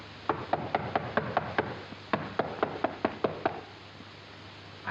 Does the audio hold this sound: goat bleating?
no